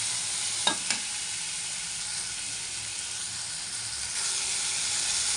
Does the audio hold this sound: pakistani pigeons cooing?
no